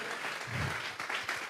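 A church congregation applauding in offering to God during a Tuesday Bible study service, steady dense clapping throughout at moderate distance.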